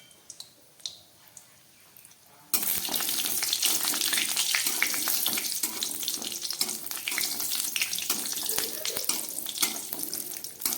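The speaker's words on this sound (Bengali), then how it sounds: "বড়িগুলোকে একটু ভেজে নিচ্ছি।" Homemade urad dal bori dropped into hot white oil in a kadai: after a quiet start, a sudden loud, dense frying hiss bursts in and keeps going steadily with faint crackles, close up and without speech.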